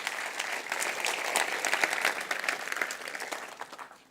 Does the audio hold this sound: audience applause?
yes